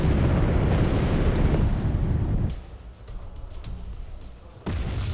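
A guided bomb dropped in the Wargame AirLand Battle video game bursts into a heavy, roaring explosion that rumbles loudly for a couple of seconds and then fades, with a second sharp blast near the end.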